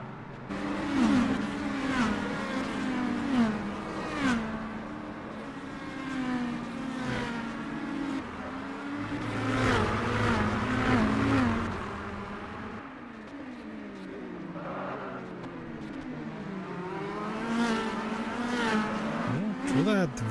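Race car in an ASRC T5 Series race at the Norisring street circuit pulling away from the start, its engine revving and climbing through gears in repeated rising sweeps, loud and continuous under a commentator's talk.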